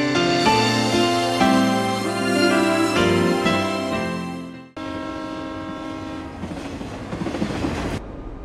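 Train sounding a loud, sustained chord horn in a movie scene about a bomb plot aboard a commuter train, the tone holding for several seconds, then cutting to a rumbling train passing with steady clatter.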